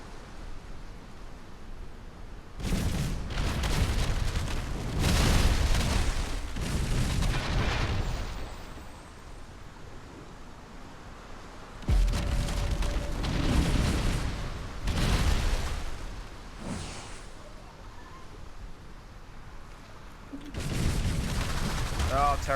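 Pirate ship cannons in a naval video game fire in heavy booming volleys, three clusters of loud blasts with rumbling decay between them over a steady sea-like wash.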